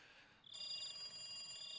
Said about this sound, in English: I finally realized the phone's ringing